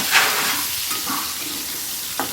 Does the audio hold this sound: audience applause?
no